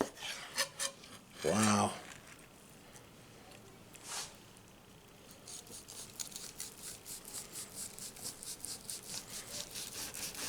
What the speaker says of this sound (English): I'm cutting kind of 1/8 of an inch thick slices.